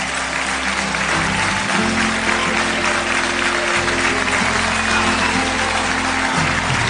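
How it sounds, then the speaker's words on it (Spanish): A TV studio audience applauds for Carlín on a live variety show, a dense, continuous roar of clapping that stays loud for the whole stretch. "que le brindemos un aplauso a Carlín."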